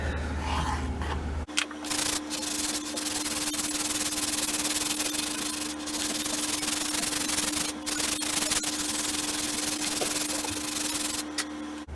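Sandpaper rubs steadily along the wooden fore-end of an M1912 Norwegian Krag carbine during restoration, a close, continuous dry scraping that runs almost unbroken after a brief quiet start.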